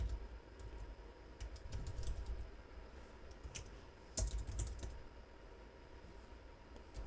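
Typing on a computer keyboard while entering a SQL REVOKE command: a steady run of light, fast key clicks, close and moderately loud, with a few sharper strikes near the middle and no talking.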